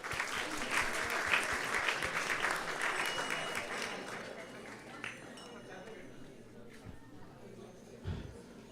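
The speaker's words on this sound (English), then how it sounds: "So let's give them a big round of applause as well." Loud, dense applause from a temple audience after a Krishna Katha discourse at ISKCON of Silicon Valley, holding steady for several seconds, then thinning into scattered claps and fading.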